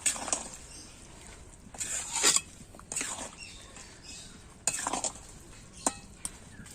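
Metal spoon clinks and scrapes against a pan while turmeric powder is stirred into cooking food, with scattered sharp taps in irregular bursts and soft rustling between them.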